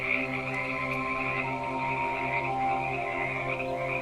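A dense chorus of frogs croaks steadily and continuously, a loud buzzing, layered drone with no pauses and no voices.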